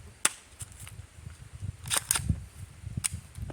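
A 9mm blowback AR rifle fires during a mud test: a few sharp, fairly quiet cracks arrive at irregular intervals over a low rumbling background, with no voices.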